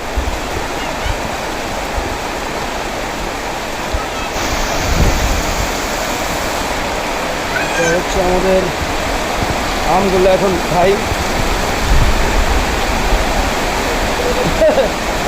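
A heavy downpour roars steadily throughout in a village, a dense hiss of rain, while people talk over it.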